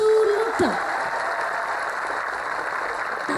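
A crowd at a lively Islamic sermon gathering in Ngawi, Indonesia, claps in a steady wash, with a brief tonal whine and sliding sound near the start before the clapping settles into an even patter.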